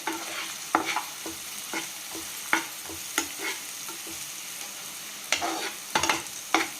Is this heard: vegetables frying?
yes